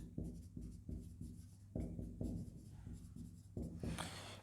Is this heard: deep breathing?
no